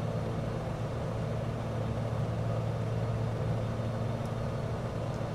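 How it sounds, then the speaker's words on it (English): A Beechcraft Bonanza G36 propeller engine in Microsoft Flight Simulator drones at a steady, smooth low hum, constant and unbroken with no talk. "Adjust it till the propeller sounds okay, nice and smooth."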